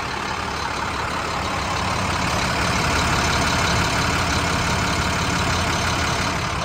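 A 2011 International PB105 short school bus diesel engine idles steadily at close range, a continuous even rumble with no talking.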